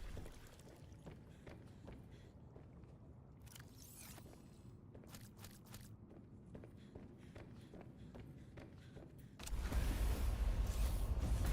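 A Seatruck vehicle cruises through water in Subnautica: Below Zero, giving a steady low mechanical hum scattered with clicks and splashy whooshes, then surging noticeably louder near the end, with no one talking.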